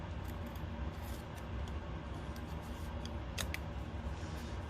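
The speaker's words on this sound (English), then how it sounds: "So now I'm going to just cut around so everything fits" Scissors snip around the edge of a paper cut-out, with quiet, close blade clicks and soft paper rustling, one crisper snip standing out near the end.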